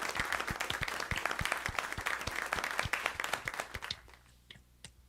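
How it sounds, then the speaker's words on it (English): An audience at a live-streamed show gives a lively round of applause, with dense clapping that thins out and fades near the end. "Give him a round of applause,"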